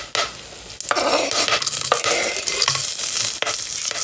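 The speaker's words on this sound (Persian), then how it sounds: "دوتا برگ بو داشتیم یعنی میندازیم این تو که سرخش بکنیم" Bay leaves and onions frying in hot oil in a pot for Thai rice, with a steady loud sizzle and repeated scraping clicks from stirring, close and alone.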